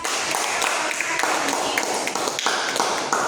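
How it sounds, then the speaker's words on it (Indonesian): Students in a classroom, during a chemistry lesson, clap together for their classmates. It is a dense, steady patter of many hands throughout, with some voices mixed in. "Jadi tepuk tangan untuk teman-teman kita yang dapat"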